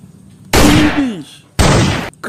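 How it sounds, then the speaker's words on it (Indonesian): A toy gun fires two loud, harsh electronic bursts, the first carrying a descending whistling tone, with a short gap between them; faint low background sound sits under the quieter stretches. "Wow, pistol teman-teman."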